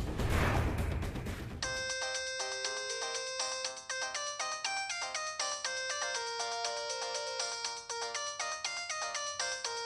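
A mobile phone rings with a looping melodic ringtone of bright, chiming tones, loud and close, repeating steadily after a brief burst of noise at the start.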